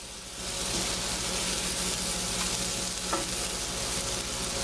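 Garlic sizzles steadily in a pan beside salmon. The frying hiss is continuous and close, with a faint clink partway through.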